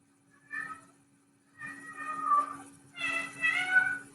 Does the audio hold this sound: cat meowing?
yes